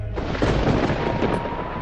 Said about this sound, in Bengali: বিকেল থেকেই শুরু হলো ভীষণ বৃষ্টি, সাথে ভয়ঙ্কর বজ্রাঘাত।